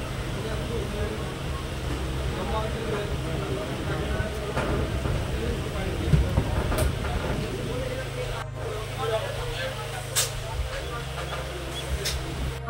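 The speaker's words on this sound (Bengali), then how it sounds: "দেখতে দেখতে আমাদের ট্রেন ছেড়ে দিল তার গন্তব্যস্থল শিয়ালদা রেলওয়ে স্টেশনের" A Suri–Sealdah MEMU express train pulls out in the early morning bound for Sealdah, giving a steady low motor hum and rolling rumble with occasional sharp clanks, and voices now and then in the carriage.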